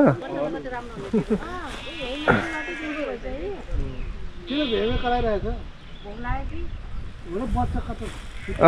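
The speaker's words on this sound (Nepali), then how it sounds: "यस्तो भेडाको फार्म रहेछ कति धेरै" Sheep bleating on a sheep farm, several wavering harmonic bleats overlapping one another and repeating throughout, close and fairly loud, with outdoor background noise.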